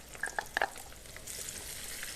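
Onion paste frying in a pan for a white lobia masala curry, with a few sharp stirring clinks early on and a steady, close sizzle that swells toward the end, with no voices.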